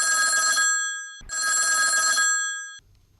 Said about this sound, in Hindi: हमारे देखे किसान भाई का फोन आता है।